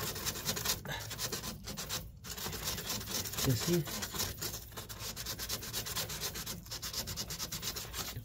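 Hand sanding during a home refrigerator repair, a continuous scratchy rubbing at close range with brief pauses, and someone says a word over it.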